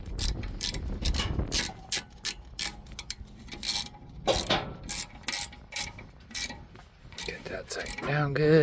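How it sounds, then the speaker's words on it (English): Close metallic ratcheting and clicking as channel locks tighten brake bolts on a 2020 Ford Raptor, in uneven bursts with a voice speaking near the end. "grab your channel locks and get those tightened up, or wrench if you have it"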